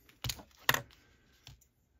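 Replacement cable for a Kent TP1-B Morse key being cut, heard as two sharp, close clicks of the cutter about half a second apart, then a softer third snip, all fairly quiet.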